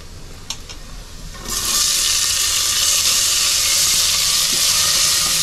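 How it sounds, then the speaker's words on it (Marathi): Onion frying in hot oil with curry leaves in a pan, a loud steady sizzle that bursts in after a quiet second and a half and then holds close and constant with no talking. "कांदा चांगला लाल होईपर्यंत फ्राय करायचा आहे."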